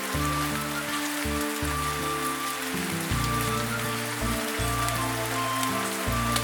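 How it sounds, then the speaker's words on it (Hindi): Cartoon rain effect, a steady hiss of falling rain and drops on surfaces running throughout at moderate level, under a looping low musical backing. "क्या पता वहाँ पर बारिश कम हो रही हो"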